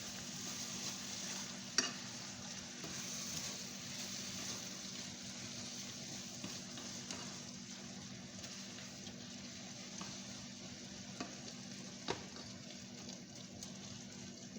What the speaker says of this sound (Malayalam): പിന്നെ കുറച്ച് മല്ലിച്ചപ്പ്, കൊറിയൻഡർ ലീഫ് ചേർത്ത് മിക്സാക്കുക.